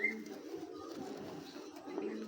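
Soft, continuous cooing from a pair of silver Giribaz pigeons, close and steady with a low murmuring tone and no talk over it.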